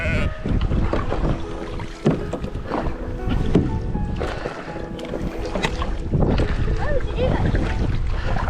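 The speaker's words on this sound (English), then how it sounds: "right. Sheep." Sheep bleat near a kayak on the water, with several bleats mixed into steady wind and paddle splashing. People talk throughout, and the bleats come through loud and close over the noise.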